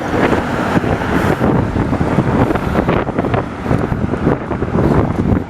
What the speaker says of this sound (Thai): วันนี้ลมค่อนข้างแรงนะครับ ผ่านมา ยิ่งช่วงตรงนี้ ลมเข้าหาตัว